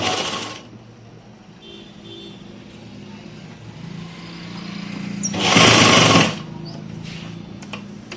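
A sewing machine runs a straight seam along the sleeve of a kurti: a brief whir at the start, quieter handling noise, then a loud burst of stitching near the end.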